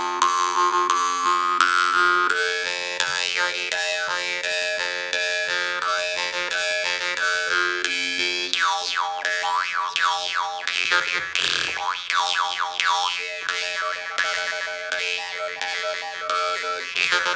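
A Tesla jaw harp (vargan) is played without its magnet, giving a twangy, buzzing drone with sliding overtones. It is played alone at a steady level for about seventeen seconds, with a brief dip near the middle.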